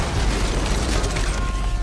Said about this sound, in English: Battlefield Bad Company blows up a lot of things really well